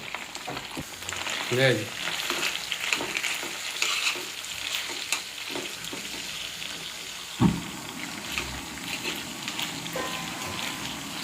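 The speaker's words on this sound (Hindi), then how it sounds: "अब हम इसमें ये अपना प्याज, जो ऑनियन हमने तैयार किया था, ग्रीन प्याज और वाइट प्याज, वो इसमें डालते हैं।" Green and white onions sizzle with beef in a hot pan, a steady frying hiss broken by repeated stirring scrapes and a sharp utensil knock, with a brief spoken word.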